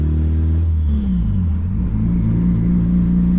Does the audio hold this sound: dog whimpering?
no